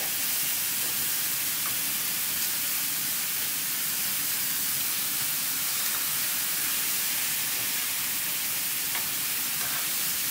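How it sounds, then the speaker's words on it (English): Steady, dense sizzling hiss of food frying in a pan, continuous and fairly loud throughout with no talking. "There's a lot of sizzling going on here."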